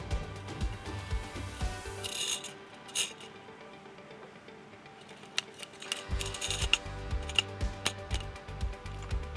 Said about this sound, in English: Next step is installing the buffer spring and buffer.